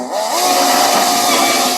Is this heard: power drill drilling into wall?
yes